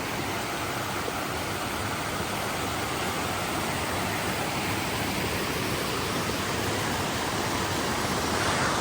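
A stream running under a trail bridge into Pamelia Lake on Mount Jefferson: a steady, broad rushing of flowing water that stays even throughout, with nothing else standing out.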